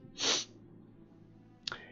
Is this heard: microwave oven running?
no